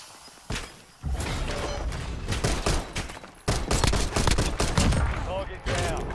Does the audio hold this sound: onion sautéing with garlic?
no